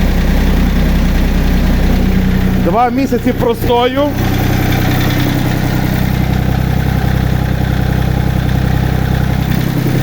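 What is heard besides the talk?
Iseki TA 235 compact tractor engine idling after cold start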